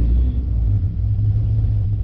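A Ford Mustang V6 fitted with an idle chop mod idles in drive, coming close to stalling: a loud, low, steady engine rumble heard up close with no talking.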